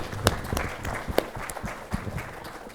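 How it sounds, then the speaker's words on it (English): Scattered, fairly faint applause from a conference audience for a panel at a summit session, a thin patter of hands with a few sharper individual claps standing out. "Please give a big round of applause for our panelists."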